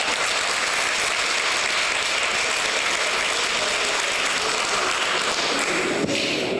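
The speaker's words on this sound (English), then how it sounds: "let's give them all a big round of applause" A big round of applause from the audience at a public school board meeting, dense continuous clapping filling the room evenly from start to finish with no talk over it.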